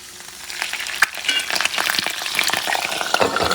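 Loud crackling sizzle as a little water hits a hot frying pan cooking chorizo, potatoes and egg, bursting up suddenly and spitting steadily for a few seconds.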